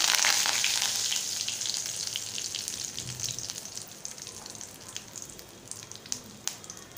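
Cumin, asafoetida and curry leaves hit hot oil for a boiled potato bhaji, a loud hissing sizzle that bursts at first then settles into steady crackling with scattered pops.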